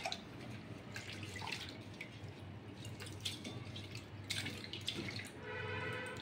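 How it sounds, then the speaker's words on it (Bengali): Gobindobhog rice is rinsed in water, giving faint splashing, sloshing and dripping sounds in a quiet kitchen. "এইটাকে আমি জল দিয়ে পরিষ্কার করে ধোবো, দুবার ধুয়ে নেব"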